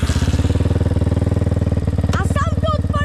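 The single-cylinder engine of a Raptor 250 R quad runs with a loud, rapid, steady thumping putter close by, and people talk over it near the end.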